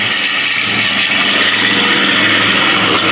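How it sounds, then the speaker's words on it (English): B-25 Mitchell bomber 'Panchito' flying past at an air show, its big radial piston engines giving a loud, steady roar that holds continuously through the pass with no talk. "Those big right engines thundering past."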